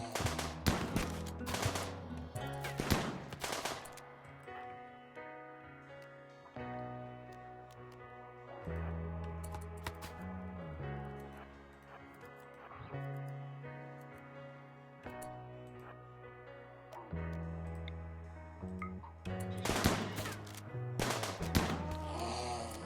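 Colonists trading gunfire in Rimworld, sharp bursts of shots clustered at the start and again near the end, with quieter musical tones sustaining in between.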